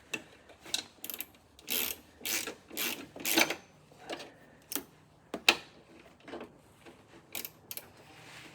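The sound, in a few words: ratchet tightening bolt on Suzuki Carry control arm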